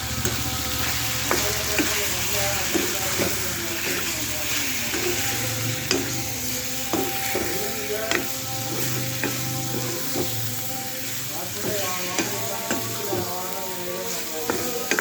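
Spiced masala with chilli powder, coriander powder and garam masala sizzles steadily in a pan while a spoon scrapes and stirs it in repeated clacks, close and continuous.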